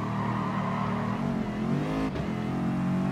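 A Mercedes Vision Gran Turismo car in the racing video game GT Sport drives with a loud, continuous engine drone, pitch climbing and shifting as it accelerates through gears, no voices.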